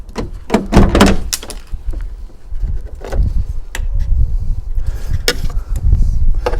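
A Fiat 500 car door unlatches and swings open with a few clunks and rattles, close by, followed by softer handling noises.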